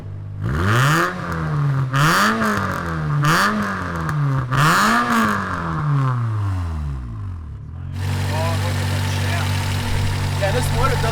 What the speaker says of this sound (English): It just keeps revving